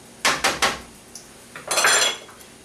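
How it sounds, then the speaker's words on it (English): A whisk knocks and scrapes against a bowl while Dijon mustard sauce is mixed: a quick run of three metallic clinks, a pause, then a longer, rougher scraping burst, close and fairly quiet. "Whisk that all together there."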